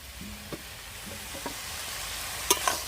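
Ash gourd with green chillies frying and being stirred in a pan, a soft sizzle with a few scraping spatula strokes and a sharper clink near the end.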